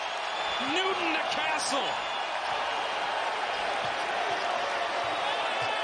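Basketball arena crowd in Hartford cheering and roaring steadily through a college game, UConn against Xavier, with a play-by-play voice talking over the continuous noise.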